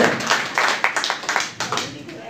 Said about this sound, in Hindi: आपके लिए एक बार जोरदार तालियां होनी चाहिए